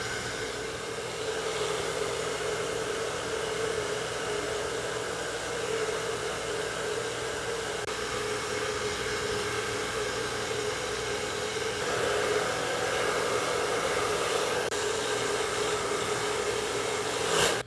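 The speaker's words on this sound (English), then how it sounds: "So, speed low, heat medium." A hair dryer set to low speed and medium heat blows a steady, even rush of air close by, with slight shifts in tone as it moves, and no talking.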